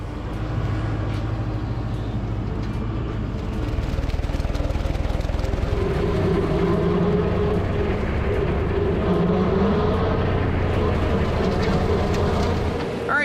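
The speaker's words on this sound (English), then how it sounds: "this batwing mower is gonna make this job so much easier" A batwing mower, the BW 15, cuts a farm field, giving a steady, loud mechanical drone with low engine rumble and shifting mid-range whine that holds without a break throughout, with no voices.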